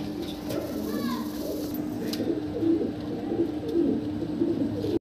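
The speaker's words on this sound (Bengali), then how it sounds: "অনেক কবুতর আছে, আমরা এক এক করে দেখাই।" Many pigeons cooing together in a loft, a steady layered chorus of low murmuring coos with occasional rustles, close and continuous, ending abruptly.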